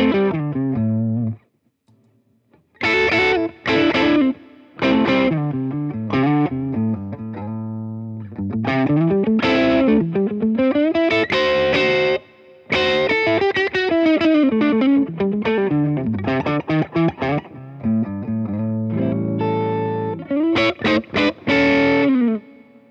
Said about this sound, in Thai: อันนี้เสียงแห้งๆนะครับยังไม่เปิดรีเวิร์บนะ